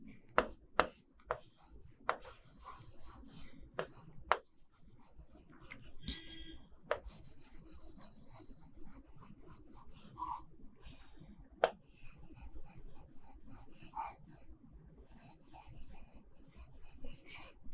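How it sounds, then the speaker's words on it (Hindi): Chalk or marker scratching on a classroom board in short strokes and taps, faint and close, with quiet pauses between bursts and a voice occasionally speaking. "यहाँ पे लिख देती हूँ मैं।"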